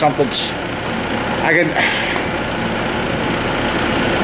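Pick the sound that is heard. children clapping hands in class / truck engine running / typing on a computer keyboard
truck engine running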